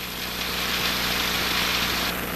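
Light aircraft piston engine held at 1700 RPM during a run-up magneto check on a windy day, a loud steady droning roar with broad hissing noise, close and continuous, no talking.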